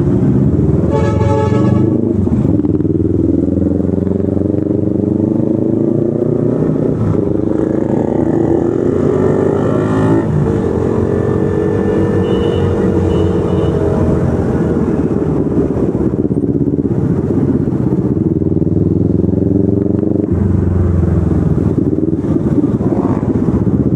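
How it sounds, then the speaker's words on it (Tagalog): Stop-and-go traffic jam on a crowded road, with car horns tooting and motorcycles idling and revving nearby in a steady, loud mix of engine rumble and repeated honks throughout. "Naipit na tayo sa traffic."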